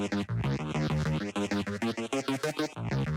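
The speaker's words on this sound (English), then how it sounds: "I use the width and heat preset for that" A hip-hop beat made for a beat battle, processed through Output's Thermal plugin on its width and heat preset, plays a steady looping groove of punchy drums and warm, saturated harmonic chords, loud and continuous.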